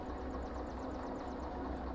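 The DE2 diesel locomotive in Derail Valley starting up, with a steady, low, throbbing engine drone that chugs in a fast pulsing rhythm at moderate volume, with no voices over it.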